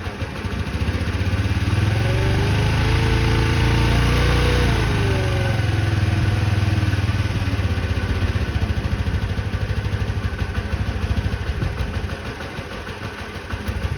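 The engine of a 1985 Honda Elite CH 150 scooter idling, a steady close putter that holds a constant pace and eases slightly toward the end.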